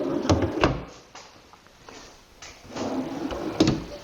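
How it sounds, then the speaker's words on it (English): An oak drawer on full-extension runners slides open in a wardrobe base, with a couple of sharp knocks near the start and another wooden thump later, over a low sliding rumble at close range. "I designed them so the whole drawer is exposed when you open it all the way up."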